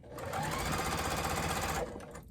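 A sewing machine stitching through the center of a fabric bowl cozy: a steady, close, fast mechanical whirr lasting about two seconds before slowing to a stop.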